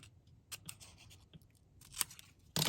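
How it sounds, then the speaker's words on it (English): Scissors cut through a paper template in a few quick, crisp snips spaced irregularly, close and fairly quiet, with a louder final cut at the end. "So now I know I can cut it right there."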